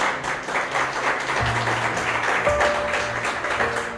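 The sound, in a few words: congregation applauding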